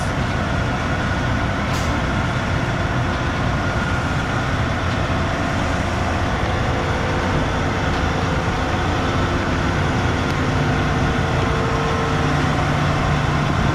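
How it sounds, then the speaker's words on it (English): A new combine harvester drives off a trailer, a loud continuous heavy-engine rumble and drone that stays steady throughout, with a brief hiss near the start. "Just drives out from over top of the trailer."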